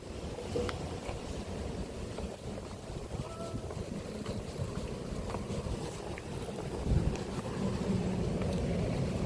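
Steady outdoor wind rushes and buffets across the microphone on a walk in Busan, a continuous low roar with a few gusts and no clear talking.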